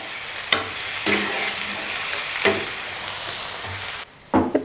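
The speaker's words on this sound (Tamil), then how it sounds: "நல்லா வதக்கிக்கலாம்." Garlic and tomato sautéing in a pan for a garlic tomato thokku, a steady close sizzle broken by several brief scraping stirs, with a short pause near the end before stirring resumes.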